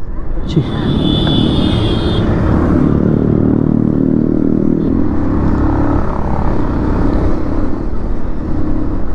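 A Kawasaki motorcycle roars along on a short ride, a loud continuous engine drone with wind buffeting close to the mic, and a brief high whine near the start; a voice talks over it.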